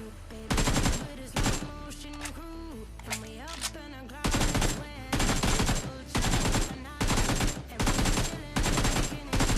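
Video game gunfire in BGMI/PUBG, fired at a wooden pole from behind cover, comes as repeated loud bursts of rapid automatic shots with short gaps between them, over game background sounds.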